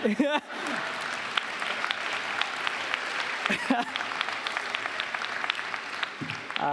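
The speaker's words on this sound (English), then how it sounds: "Oh, that's okay, you can clap, I enjoy it." Graduation ceremony audience at a 2017 school commencement breaks into sustained, even clapping that fills the hall, with a speaker's voice briefly heard at the start and again near the end.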